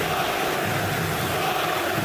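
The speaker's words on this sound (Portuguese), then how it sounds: "a reação da torcida do Corinthians" A Corinthians football crowd roars in a packed stadium during a 2013 Libertadores match against Boca Juniors, a dense, constant wall of loud shouting and chanting that holds steady throughout without breaks.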